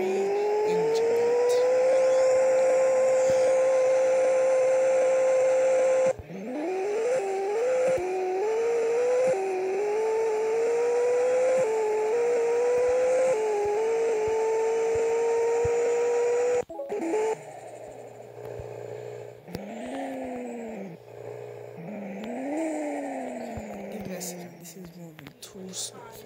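A quad-turbo Ferrari 458 in Roblox Vehicle Legends drones loudly and steadily, its engine pitch climbing through repeated upshifts with abrupt cuts and dips as it speeds along.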